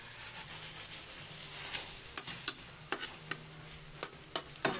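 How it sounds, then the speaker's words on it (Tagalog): Scrambled egg with tomato and onion cooking in a pan: a soft, continuous sizzle broken by repeated sharp taps and scrapes of a utensil against the pan, coming more often toward the end. "Hanggang maluto yung itlog, luto yung kamatis at saka sibuyas."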